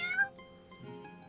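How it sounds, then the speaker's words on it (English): A tabby cat meows in the fantasy video game Sigh of the Abyss, a short, fairly close call with a rising and falling pitch at the start, then fading into quieter game ambience. "Kitty!"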